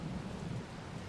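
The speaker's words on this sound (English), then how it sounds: "it's already raining" Rain and thunder in Farming Simulator 22, a faint, steady patter of rainfall with a low rumble underneath, heard briefly and quietly.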